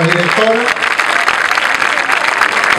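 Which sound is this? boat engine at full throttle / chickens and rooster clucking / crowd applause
crowd applause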